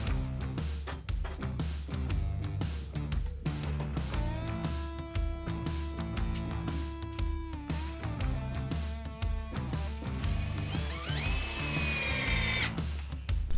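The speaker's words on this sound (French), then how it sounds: "Mais dans un mur de briques, il faut transférer les trous et les percer." A power drill bores holes into a brick wall to fix a sliding-door profile, sounding as a run of repeated loud whirring bursts with short pauses between them, close by and without talk.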